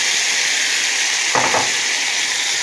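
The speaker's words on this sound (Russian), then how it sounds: "Лук у нас обжарился. Добавляем помидоры." Onions fry in a pan as grated tomatoes are added, a bright continuous sizzle close up with a brief stirring scrape midway.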